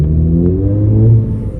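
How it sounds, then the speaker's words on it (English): Car with a DCT gearbox pulling away in first gear with the clutch slipping under pressure: a steady, close engine drone that rises slowly in pitch under load, with no talk. "So this is first gear pulling away. We've got a fair bit of pressure and it's slipping."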